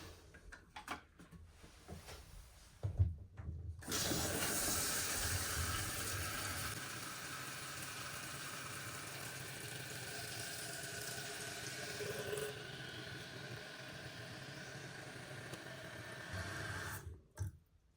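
A toilet tank refills after a repair to stop hissing: a few clunks of handling, then water rushes in and runs steadily for about thirteen seconds before cutting off near the end.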